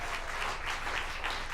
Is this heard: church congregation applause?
yes